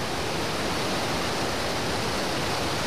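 Steady, loud broadband rush of a river flowing right alongside, an unbroken roar of water with no pauses or talk.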